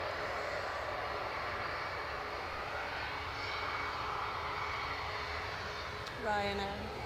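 A Ryanair jet at Edinburgh Airport gives off a faint, steady engine rumble with a slight swell, and a brief voice breaks in toward the end.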